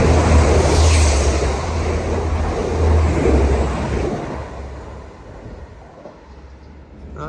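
A Liverpool to Hull passenger train rumbles steadily through Batley station at close range, a broad roar with a low hum that eases slightly toward the end.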